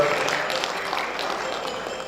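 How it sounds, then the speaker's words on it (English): Applause from a seminar audience at an international conference greeting a guest speaker, a steady wash of clapping held at an even level for about two seconds with no voice over it. "We give a big applause to Dr. Abdul Karim"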